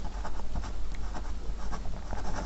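A salary entry in an account is written by hand, making steady, close scratching strokes of a pen on paper throughout, with no talk.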